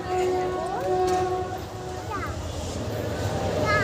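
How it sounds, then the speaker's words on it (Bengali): A train passes near a flower garden valley, its steady heavy rumble filling the scene while voices talk over it and brief horn-like tones rise and fall. "ট্রেন যাচ্ছে, দেখো ট্রেন যাচ্ছে।"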